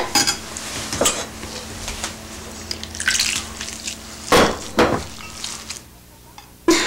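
Wet, squelchy squishing of a spiced spinach mixture being mixed by hand, with irregular soft slaps and a few sharper clicks.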